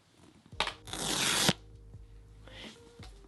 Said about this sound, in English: Here's some pull tab ASMR.